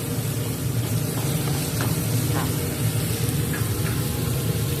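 Macaroni and shrimp stir-fried in a pan make a loud, dense sizzle with soft stirring scrapes, while someone talks over the cooking.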